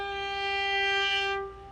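A single clean, sustained violin note drawn with the bow starting from the tip, steady and pure with rich overtones, close and quiet, fading at the end of the stroke with no talking.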